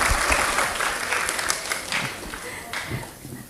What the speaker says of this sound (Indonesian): kasih tepuk tangan sekali lagi untuk Prof. Santi.